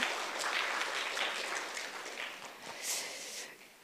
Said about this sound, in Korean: 이럴 때 우리가 박수를 한번 치면 좋을 것 같아요.